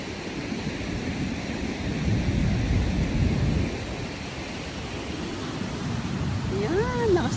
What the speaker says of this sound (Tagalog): Yan, lakas ng alon.